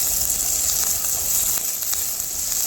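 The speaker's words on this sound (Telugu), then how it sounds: "ఇప్పుడు ఇందులో కరివేపాకు అనేది యాడ్ చేస్తున్నాను" Curry leaves sizzle and crackle in hot oil alongside green chillies for chicken manchuria, a steady loud frying hiss filling the whole stretch with no voices.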